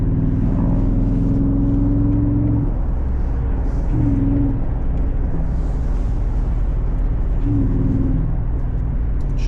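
A rebuilt Jeep SRT8 engine droning loudly from inside the cabin as it accelerates to pass a slow car, a steady heavy roar with slight rises in revs throughout, no talk.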